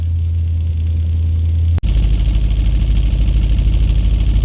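An Audi B7 RS4 engine starts with a brief sharp catch and then idles with a steady, loud low rumble. A faint hum comes before the start, and no one speaks.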